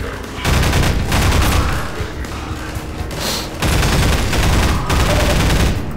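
Enemy gunfire in the video game Half-Life 2: Episode 1: loud, dense bursts of automatic fire and shots that roar for about three seconds, break off briefly, then resume just as loud to the end.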